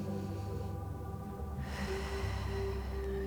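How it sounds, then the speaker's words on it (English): A person takes a deep inhale through the nose during a pre-run meditation, a quiet, steady airy draw heard up close against a soft background hum. "another big inhale through the nose."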